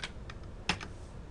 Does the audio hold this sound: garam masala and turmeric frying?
no